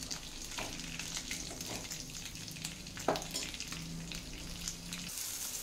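Ingredients for a spicy curry frying in a pan, a soft steady sizzle with occasional stirring scrapes and a light clink, heard close and fairly quiet.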